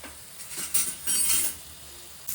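Marinated chicken tikka fries in butter in a pan, a soft hissing sizzle that swells in short bursts, mixed with light utensil scrapes and clinks from stirring.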